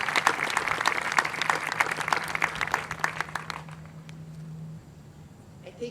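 An audience at a school welcome event claps loudly and steadily, the applause thinning out and fading away after a few seconds.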